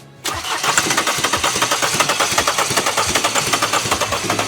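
A CLS car engine with a failed, dead engine cranks rapidly and steadily with a rhythmic chugging starter sound, close up and loud, never catching into a running idle.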